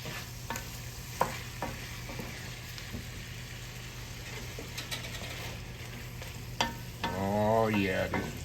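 Braised pork chops stirred in a pot, a quiet simmer under scattered spoon clinks and scrapes, followed near the end by a brief, louder grinding, whirring sound, close by and without speech.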